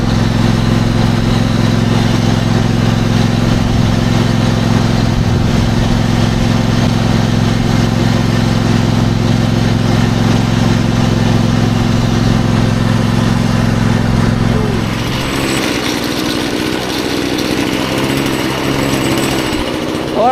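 A petrol lawn mower, just pull-started on campsite grass, runs with a loud steady engine drone that continues for most of the stretch, then drops to a quieter, rougher idle near the end; no talk.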